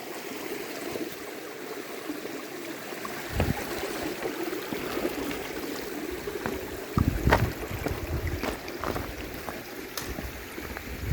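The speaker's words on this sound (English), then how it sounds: "Plenty of flow here at the water source down from Frosty Pass." A mountain stream runs at a water source below Frosty Pass in green, unburnt forest in the Pasayten Wilderness. The water makes a steady rushing and burbling flow, with a few louder splashes and knocks scattered through.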